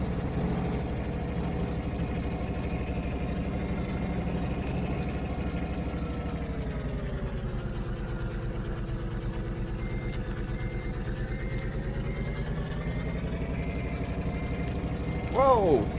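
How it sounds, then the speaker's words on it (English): Simulated truck engine in Farming Simulator 2013 drones steadily throughout, its pitch dipping and rising as it drives, with a short burst of reversing beeps near the end. "This truck is too fast for me."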